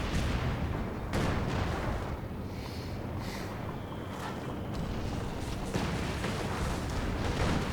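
Continuous battlefield rumble from a Company of Heroes 2 match in a city map, with dense booming artillery and gunfire blending into a steady loud wash, a few sharper hits standing out, and no talk.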